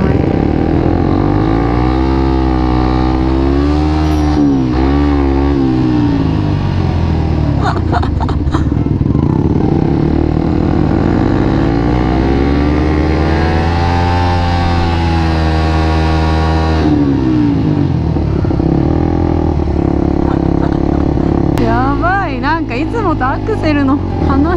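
A small single-cylinder motorcycle engine revs up and down repeatedly, pitch sweeping and falling in waves as the throttle is worked, loud and near, with people talking over it at times.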